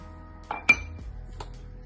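Lid of a homemade paneer maker pulled off, giving a few light metallic clinks and knocks close by, with quiet pauses between them.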